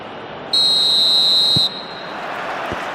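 Referee's whistle in the PES 21 football video game, one long, steady, shrill blast lasting about a second over constant stadium crowd noise, with a couple of faint thumps afterward.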